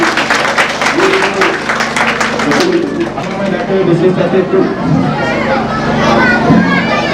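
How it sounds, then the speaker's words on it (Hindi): Audience applauding for the children at a tribal village summer festival, a loud wash of clapping from a crowd that thins out as voices and chatter take over. "एक बार तो तालियां बच्चों के लिए"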